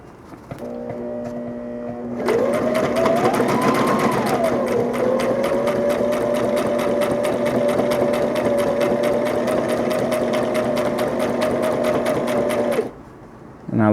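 A sewing machine stitches costume fabric for a Green Lantern outfit, running steadily and loudly for about ten seconds after starting with a rising whir, then stopping abruptly, with no talk over it.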